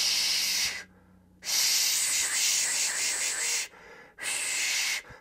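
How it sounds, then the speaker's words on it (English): Beef roast searing in a super hot pan, loud bursts of hissing sizzle that cut out and resume in chunks. "Can you hear the sizzle?"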